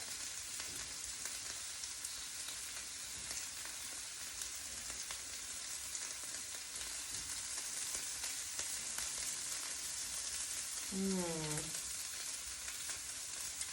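Steady, faint sizzling and crackling of stuffed squid frying on a hot grill plate, with a brief squeaky scrape near the end.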